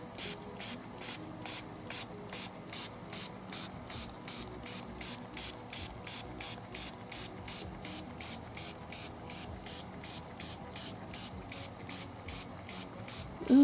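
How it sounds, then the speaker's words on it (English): A hand spray bottle of 91% rubbing alcohol mists onto Sharpie ink on canvas and watercolor paper in a fast, even series of short, crisp hissing spritzes, close and alone, ending with a brief handling bump. "I'm taking the alcohol and spraying it to see what it does"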